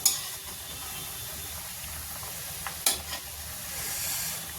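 Sweet pua fritters fry quietly in oil while being stirred, a soft steady sizzle with a few sharp scrapes and clinks of the spoon.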